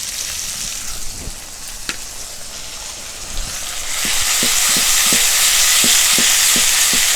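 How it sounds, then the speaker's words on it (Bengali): Ginger-garlic paste frying with onion and tomato in a pan, a loud steady sizzle rising midway, with a spoon scraping and stirring in a regular rhythm of clicks. "খুব ভালো করে কষে নেব।"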